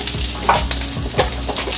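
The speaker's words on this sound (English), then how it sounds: "after frying, shallow frying." Salmon tail sizzles and crackles steadily as it shallow-fries in a hot pan, a close, continuous frying hiss with small pops and the occasional scrape.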